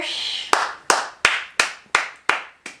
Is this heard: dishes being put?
no